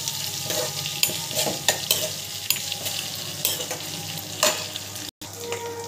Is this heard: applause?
no